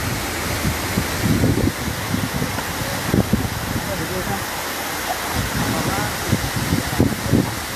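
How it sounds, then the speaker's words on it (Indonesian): Water from the Lembah Anai waterfall near Padang Panjang, West Sumatra, crashes in a steady, dense roar that fills the whole stretch. Voices murmur faintly beneath it. "Air terjun Melibu Anai, Padang Panjang, Sumatera Barat."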